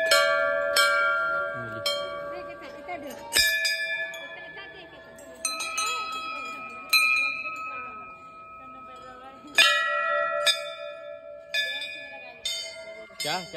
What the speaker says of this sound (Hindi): घंटी बजा देता हूँ तुम्हें